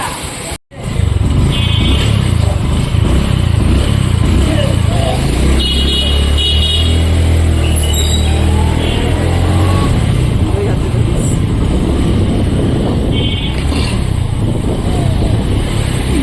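A motorbike on a road trip hums along at a steady roar, with wind and road noise throughout, a sharp knock near the start and people talking faintly over the ride.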